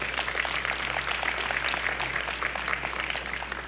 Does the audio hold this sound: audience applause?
yes